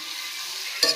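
Adobo with string beans stirred in a pan, a steady sizzling hiss ending in one brief scrape of the spoon.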